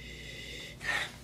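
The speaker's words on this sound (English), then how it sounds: "Let's do a sniffy sniff." A short, sharp nasal inhale, a quick sniff of wine rising out of a quiet background hum, close to the listener.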